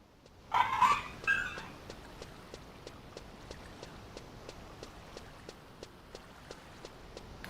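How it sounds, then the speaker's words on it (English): A neighbor's dog gives a short burst of barks early on, somewhat distant, followed by a steady run of light, evenly spaced ticking steps from an online game, Final Fantasy XI. "That actually might be my neighbor's dog."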